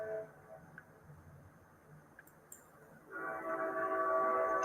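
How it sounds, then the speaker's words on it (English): A train passes by outside, a low rumble that is faint at first and then swells abruptly in the last seconds into a louder, sustained roar. "Every time I do a live stream, there's a train coming."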